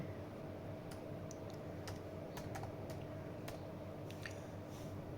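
Typing on a computer keyboard while entering text into a table in Microsoft Word, a scatter of light key clicks in short bursts over a steady background hum, with no one talking.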